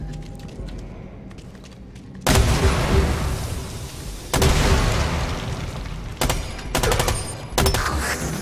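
Rapid bursts of gunfire from Ela's gun in Rainbow Six Extraction, loud and close, coming in several sharp volleys with brief gaps between them.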